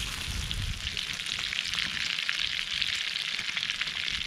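Mud crab frying in a pan outdoors, a steady close sizzle and crackle of hot oil running without pause, with no talk over it.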